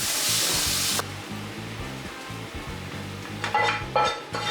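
Balsamic vinegar poured onto onions in a pan sets off a loud hissing burst that drops to a steady, softer sizzle, with a few spoon scrapes near the end.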